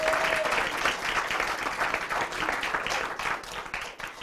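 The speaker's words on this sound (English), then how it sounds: "So please give a round of applause and congratulations to all of our spellers here today." A room applauds the spellers at a school district spelling bee, with many hands clapping in a dense, lively burst that gradually thins out toward the end.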